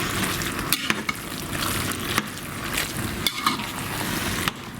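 Stirring diced cream cheese into a mixture for keto stuffed peppers, a steady wet scraping and squelching with a few sharper clicks of the spoon against the bowl, close and continuous, with no talk.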